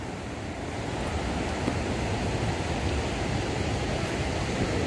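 Ocean surf rolling onto a beach at Mongaguá on the southern São Paulo coast, a steady, loud, continuous wash of breaking waves with some wind, no voices.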